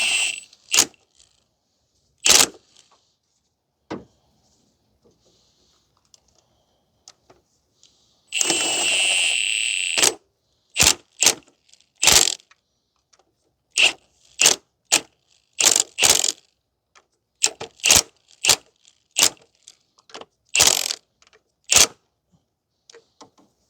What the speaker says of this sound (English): And then now you need to tighten down the nuts.